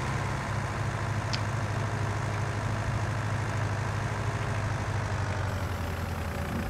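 Tractor engine from Farming Simulator 19 drones steadily while spraying weed killer, a continuous low heavy hum with no talk over it.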